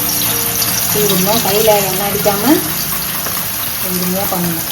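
Raw banana chips fry in hot oil with a steady, close sizzle and bubbling that runs throughout while a voice talks over it.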